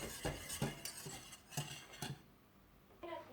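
A spoon stirs hot chocolate glaze for a birthday cake in a pan, several close clinks and scrapes against the side in an uneven rhythm, fairly quiet, then a brief pause.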